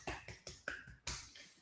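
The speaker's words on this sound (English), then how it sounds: "So we'll clap for Team Cartographer." A handful of people clap for an award-winning student team at a virtual demo day, a few separate sharp claps spaced across a brief moment, close and dry with no talking.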